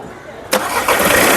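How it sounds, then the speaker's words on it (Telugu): A 2015 Volkswagen Polo Comfortline engine cranks and catches abruptly, then settles into a loud, steady running roar close by. "ఒకసారి ఇంజిన్ ఆఫ్ చేయి ఒక్కసారి స్టార్ట్ చేయ మళ్ళా"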